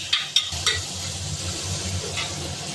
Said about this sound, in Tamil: அதை நல்லா வதக்கிடணும்